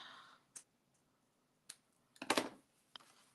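Scissors cut pom-pom ribbon in a quiet room: a few faint isolated snips, then a louder crunching cut lasting a fraction of a second, and one last small click.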